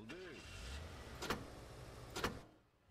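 Cars in Gas Station Simulator speed away, a faint engine hum with a couple of sharp ticking clicks, fading quickly into near silence.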